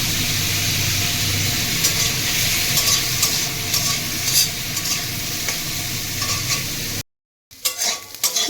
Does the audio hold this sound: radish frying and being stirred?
yes